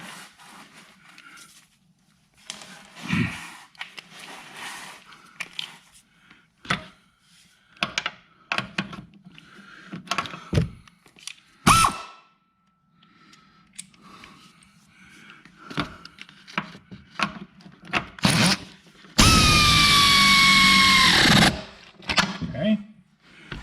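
A motorized tool working on the rear shock bolts of a 2017 Ford Escape whirs loudly and steadily for a couple of seconds, between scattered clanks, knocks and a few spoken remarks.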